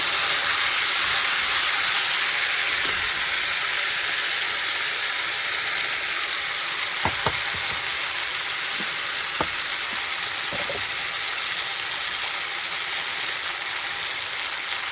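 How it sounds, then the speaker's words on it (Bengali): Tomato, cashews and ginger paste fry in hot oil with a steady, loud, close sizzle lasting throughout, broken by a few light clicks of stirring. "এটা তেলের উপরে দিয়ে দিচ্ছি। একটু মশলা ফ্রাই করে নেব।"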